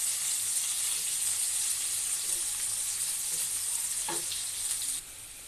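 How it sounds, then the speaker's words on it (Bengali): Onions sizzle steadily in hot oil in a pan, a loud, even hiss that holds for several seconds, with one brief scrape near the end before the sound drops slightly. "পেঁয়াজটা এভাবে আমি ভেজে নেব,"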